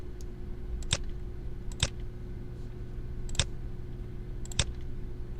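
Four sharp, isolated mouse clicks spaced irregularly over a quiet room hum while centre marks are deleted in SolidWorks CAD software.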